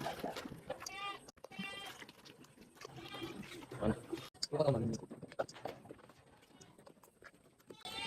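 Pregnant goats bleat several times nearby, their wavering calls mixed with shuffling and other farmyard noises.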